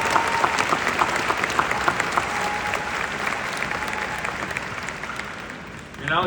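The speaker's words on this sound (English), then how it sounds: "Let's give them a round of applause." A graduation audience at a university law school commencement applauds steadily, a dense, even wash of clapping that holds for several seconds and dips slightly near the end.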